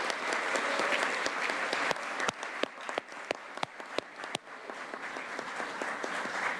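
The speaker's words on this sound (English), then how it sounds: "One final round of applause for all of our incredible volunteers." Applause for volunteers at the County of San Diego Volunteer Recognition Ceremony: a room full of steady clapping with several sharp, loud individual claps close by, thinning slightly midway before swelling again.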